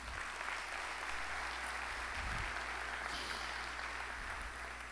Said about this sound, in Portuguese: Então uma salva de palmas para a Uningá.